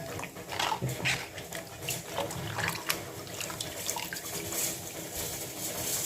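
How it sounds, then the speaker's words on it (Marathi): Quiet splashing and sloshing of water as okra is rinsed by hand in a container, with small irregular splashes. "असं पाणी बुट्टीत वगैरे पाणी घ्यायचं आणि असं स्वच्छ धुवून घ्यायचं"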